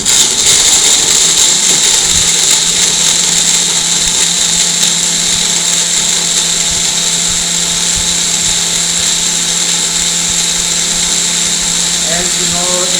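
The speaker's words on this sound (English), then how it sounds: "Let's put lid on it. We are going to blend right now." A Merlin Classic blender purees plums for juice with a loud, steady high-pitched whir that runs unbroken from start to finish.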